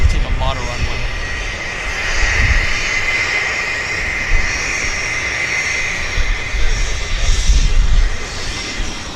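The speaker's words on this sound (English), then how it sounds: "This airplane's filled with passengers, and those engines are quite, they're not very powerful, so it'll take the full runway" A passenger airplane's jet engines roar steadily during takeoff at Vancouver Airport, a loud continuous rumble with a high whine, heard from a distance with people talking over it.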